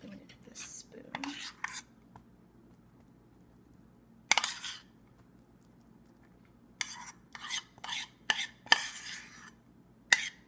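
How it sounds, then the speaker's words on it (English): Metal spoon clinking and scraping against dishes in a kitchen, sparse sharp taps and rattles scattered over a quiet background, some in quick clustered bursts. "I'm going to get this spoon."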